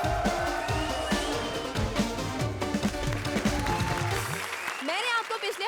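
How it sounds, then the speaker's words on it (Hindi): A studio audience applauds on a comedy show, a steady wash of clapping mixed with music and a few voices, fading as the music turns to rising tones near the end. "जोरदार तालियां हमारी इस तिगड़ी के लिए"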